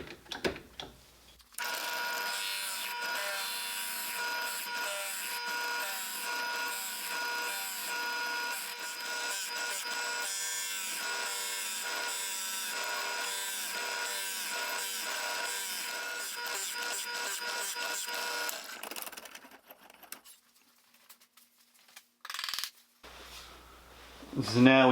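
A drill press bores into wood with a Forstner bit, a continuous close grinding and whirring cut lasting around twenty seconds before the spindle winds down, followed by brief handling noises.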